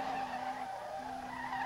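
Tires squealing in a long, steady screech as a Skyline drifts in the SLRR driving game, one continuous skid with a brief dip midway, loud and close over engine drone.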